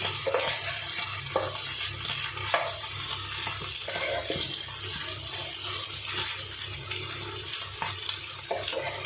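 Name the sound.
egg frying and being stirred in goat meat curry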